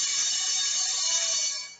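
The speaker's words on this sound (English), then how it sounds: "you find the bell going because the lectures are going on" An electric bell rings continuously at a college during lectures, a loud, steady, high-pitched buzzing ring that holds throughout before tapering off at the end, with no voices over it.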